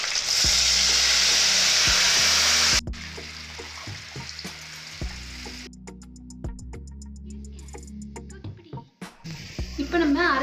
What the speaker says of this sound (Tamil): கடுகு சின்ன உள்ளியும் ஆட் பண்ணியிருக்கோம். ரெண்டும் கொஞ்சம் வதங்கட்டும்.